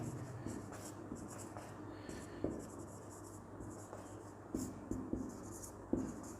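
Pen writing a sentence by hand on paper, a soft continuous scratching with light taps and strokes, close and quiet, with no talk over it.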